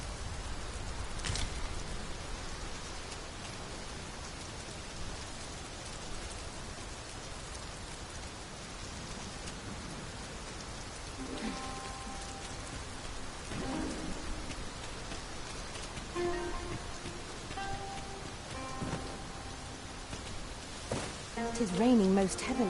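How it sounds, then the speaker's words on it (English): Heavy rain falls in Dragon's Dogma 2, a steady dense hiss of downpour running throughout, with a few brief louder patches and faint tonal game sounds near the end. "It is raining most heavily."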